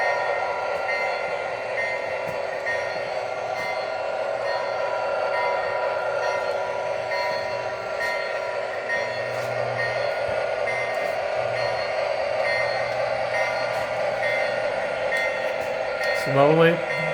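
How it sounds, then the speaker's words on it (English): A model train reverses, rumbling steadily along the rails with a low mechanical hum, and a brief squeal rises near the end. "So we're gonna reverse this train and park it back where it was originally."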